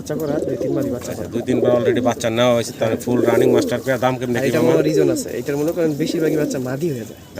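Pigeons at a pigeon farm coo in a continuous, dense chorus of throaty, rolling calls, loud and close, with people talking among them.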